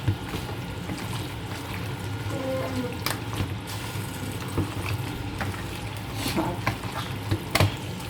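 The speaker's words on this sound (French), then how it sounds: "Et je vais encore mélanger comme ceci." Stirring pondu with spinach and pork in a cooking pot, a soft continuous churning and scraping with faint wet sizzling, a few sharper clinks of the spoon against the pot, close and low in level, no talk.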